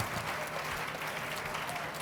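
A crowd at a Lagos State education empowerment event claps steadily in a brief, even burst of applause, fairly close and filling the room.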